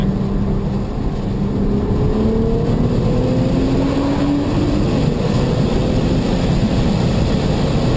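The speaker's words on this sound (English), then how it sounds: "Watch this Nissan GT-R get airborne after speeding over a blind hill." A Nissan GT-R speeds over a blind hill. Its engine roars loud, close and steady throughout, and the pitch climbs as it accelerates.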